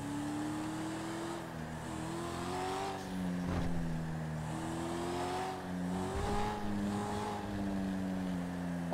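A car engine drives steadily in Grand Theft Auto V, its pitch rising and falling with gear shifts and revs, continuous and fairly loud throughout with no voices over it.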